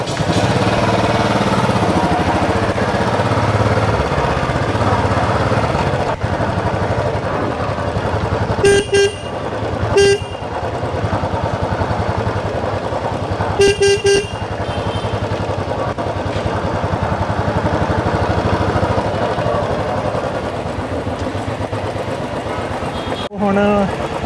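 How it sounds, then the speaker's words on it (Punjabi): A Royal Enfield Bullet motorcycle idles steadily and close throughout a test ride, its low engine rumble continuous, with a few short horn toots from nearby traffic and voices talking in the background. "ਜਿਹੜੀ ਬਾਈਕ ਅਸੀਂ ਸਿਲੈਕਟ ਕੀਤੀ ਆ ਵੱਲੋਂ ਦੀ ਇੱਕ ਵਾਰੀ ਬਿਲਿੰਗ ਤੋਂ ਪਹਿਲਾਂ ਟੈਸਟ ਰਾਈਡ ਕਰਕੇ ਦੇਖਣ ਲੱਗਾ ਆ"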